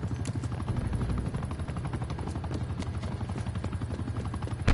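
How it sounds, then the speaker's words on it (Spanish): A helicopter in a war video game thunders loud and close, its rotor chopping in a fast steady pulse throughout, with scattered gunfire mixed in. "El helicóptero es de nosotros"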